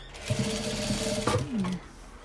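A sewing machine stitching a quilt block, a steady close mechanical whir and needle rattle running for about a second and a half, then stopping.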